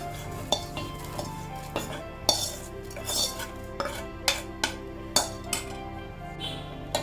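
Ghee-roasted flattened rice (aval) goes into hot milk for aval payasam and gets stirred in a metal pot, with repeated sharp clinks and scrapes of a spoon against the pan over a low simmering hiss.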